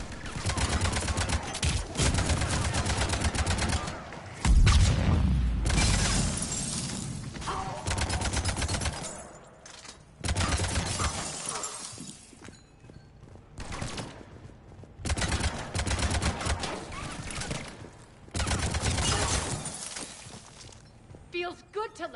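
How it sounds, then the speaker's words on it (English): Bursts of gunfire from a firefight in the video game Mass Effect 3, loud repeated volleys with short pauses between them, mixed with game voices and effects. "Intruders, open fire!"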